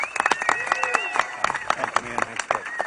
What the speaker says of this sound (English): So please give a big round of applause for the guy that helped us get this done, Governor Greitens.